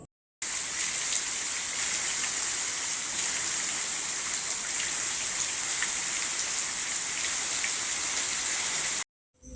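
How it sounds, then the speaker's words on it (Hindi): Heavy rain pours down steadily, a dense, even hiss of water drumming on surfaces that holds without a break from start to finish. "और उसके बाद फिर ज़ोरदार बारिश शुरू हुई।"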